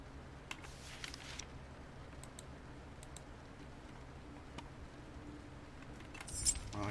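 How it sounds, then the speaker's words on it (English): Keys jangle as they are picked up in a horror video game, a few light metallic clinks over a steady low ambient drone. "Well, I got my keys."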